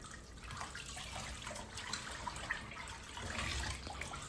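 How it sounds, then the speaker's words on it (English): Running water rinses off a homemade exfoliating body scrub, a steady close hiss and splash from a tap with soft drips, no talking. "I'm just going to rinse everything off."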